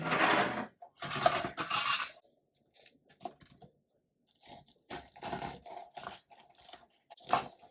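A knife cuts through a flaky baked croissant, giving a run of dry, crackly crunches in uneven bursts, loud at first and then in sparser, lighter crackles, with no voices.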